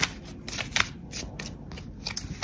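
Tarot cards being shuffled in quick riffling bursts, a rapid papery flutter repeating several times with brief pauses, close by and without talk.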